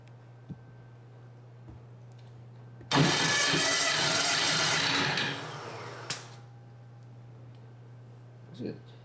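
A 383 small block Chevy engine in an old-school street build cranks over on the starter during a compression test, a loud steady burst of about three seconds with quiet before and after.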